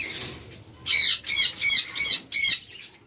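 Caged lovebirds and budgerigars at a bird seller's give five loud, harsh squawks in a steady, evenly spaced rhythm, close by with no talking.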